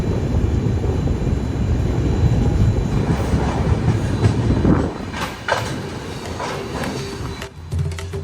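A moving Uttar Pradesh Sampark Kranti train heard from inside the carriage: a loud, steady rumble with rattling and rhythmic clatter that eases partway through, then faint creaks and knocks, with no talking.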